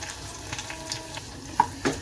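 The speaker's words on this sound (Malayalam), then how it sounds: "നമ്മുടെ കടുക് താളിച്ചതൊക്കെ ഇത് നന്നായിട്ട് മൂത്ത് വന്നിട്ടുണ്ട്" Mustard seeds and curry leaves crackle in hot oil for a Kerala ozhichu curry tempering, a soft steady sizzle with a few sharp pops and utensil taps near the end.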